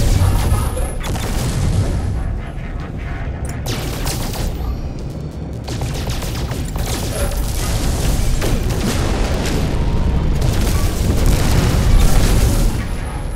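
In the No Man's Sky video game, rocket explosions boom in a loud, continuous barrage, with rumbling blasts and bursts stacking over one another in dense gameplay noise.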